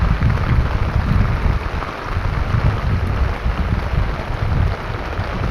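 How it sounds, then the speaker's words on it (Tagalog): Steady, heavy rain pours down continuously, a dense hiss of drops with a low rumble underneath, no voices. "Kasi umuulan."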